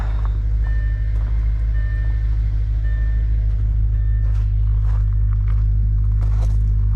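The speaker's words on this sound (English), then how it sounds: "car at idle with the flaps closed" An Audi RS4 idles with its exhaust flaps closed, a low steady rumble held evenly throughout, close and fairly loud, with a few faint high beeps and light clatter from the surroundings.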